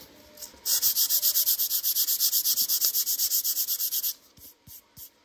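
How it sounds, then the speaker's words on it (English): Hand sanding primer on a 3D printed helmet: about two dozen quick, even rasping strokes in a steady rhythm, close and fairly loud, then a few slower, softer rubs at the end. "I'll be able to finish sanding this in 2 minutes or so."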